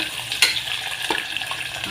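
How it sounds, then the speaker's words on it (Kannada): Onions and vegetables frying in a pan for veg pulao, a steady close sizzle with a brief metallic clink and light stirring scrapes. "ಹೀಗೆ ಫ್ರೈ ಮಾಡ್ಕೊತ ಹಾಕೋಣಂತೆಲ್ಲ"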